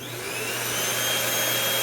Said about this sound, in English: Having the floor fan on and then switching on the upright vacuum,